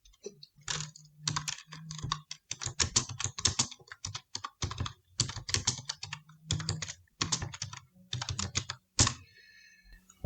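Fingers type on a computer keyboard while entering lines of code, in quick close bursts of clacking keystrokes separated by short pauses.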